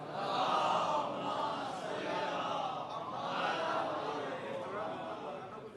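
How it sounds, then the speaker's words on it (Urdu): A large crowd at a religious mehfil in Vadodara chants the salawat in unison, a loud, sustained wash of massed voices that swells and ebbs but never stops. "بلند ترین نعرے صلوات."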